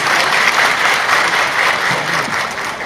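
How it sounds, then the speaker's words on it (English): Summit audience applauding at a startup event in Dhaka, a dense, steady wash of many hands clapping close by for just under three seconds, with no voices standing out above it. "Can we have another big round of applause?"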